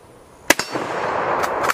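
Rifle fired at a gun range with 8mm Mauser ammunition, a sharp loud crack followed by a second close report and a lingering rumble, then two more quick sharp bangs near the end.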